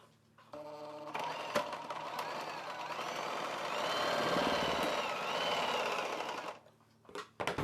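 A sewing machine runs steadily for several seconds, stitching the shoulder joint of a lined maxi dress. It starts and stops with a few clicks and is close and moderately quiet, with no talking.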